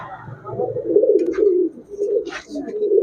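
Pigeons cooing in a loft, stone-eyed birds of a high-flying line, with a steady low warbling coo running throughout, close and fairly loud, and brief higher chirps breaking in over it.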